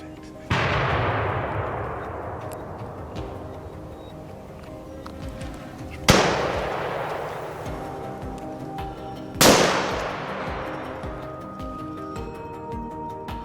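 Three loud rifle shots ring out during a wild boar hunt in an open field, each a sharp crack followed by a long rolling echo that fades slowly before the next one.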